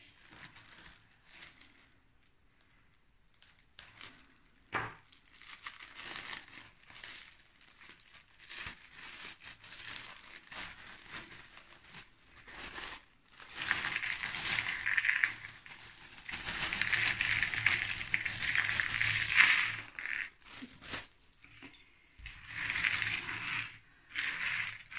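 A plastic bag of jigsaw puzzle pieces, packed inside a fabric bag, is opened with quiet intermittent crinkling that swells into a longer, louder stretch of rustling and crackling plastic near the middle and end.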